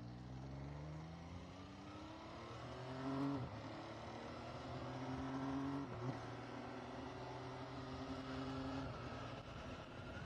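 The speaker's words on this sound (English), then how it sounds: "It's got a really mean sound to this triple." A 2014 MV Agusta Brutale 800 three-cylinder motorcycle runs steadily while being ridden, its engine note droning continuously and loud throughout, with a brief rise in revs partway through.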